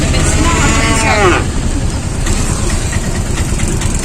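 A small auto rickshaw engine idles and rumbles steadily near a station, a low continuous drone with voices talking over it throughout.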